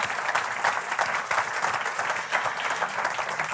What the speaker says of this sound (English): I think it deserves an applause.